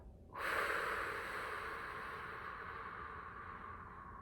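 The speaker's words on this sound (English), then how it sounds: "So breathe in, hold, breathe out." A single deep breath drawn in sharply through the nose, then a long steady airy exhale fading slowly, close and quiet with no talking.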